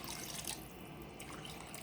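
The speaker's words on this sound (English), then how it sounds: "then I'm gonna add that water and stir it in" Water poured into a pot of short rib ragu, a faint continuous splashing trickle lasting about two seconds with no talk.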